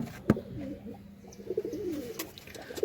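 Local pigeons in a loft give a few faint, rolling coos, with a sharp knock near the start and scattered light rustles and clicks.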